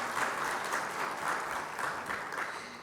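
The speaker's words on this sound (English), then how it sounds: "A big round of applause for our chairman," A seated audience applauds their chairman at a financial talk, the steady clapping sounding fairly distant and soft throughout.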